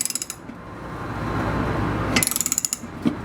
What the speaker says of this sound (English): we'll then take our socket, our 7/8 socket, and we will thread this in